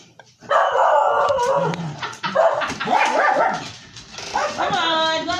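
A dog barks and howls close by in a home, with yips, whimpers and a drawn-out howl in quick bursts.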